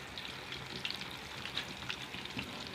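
Fish sizzling in hot oil in a frying pan, a steady close crackle with small popping bursts throughout, no talking.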